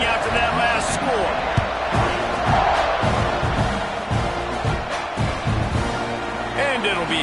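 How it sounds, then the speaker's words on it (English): Football stadium crowd buzzing after a touchdown and extra point, a steady loud roar of many voices filling the whole stretch, with an announcer's voice talking over it. "this crowd is buzzing after that last score"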